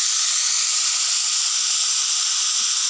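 Salted bitter gourd slices fry in hot oil, a loud, even sizzle that runs unbroken for a few seconds with no voices.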